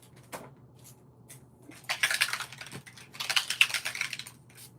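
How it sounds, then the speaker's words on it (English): Spray bottle spritzing shimmer onto a handmade card in two short hissing bursts, close and fairly quiet, with small clicks and handling noise around them. "we're gonna give it a little spritz of shimmer"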